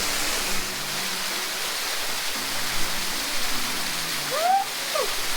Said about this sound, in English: Waterfall, buddy.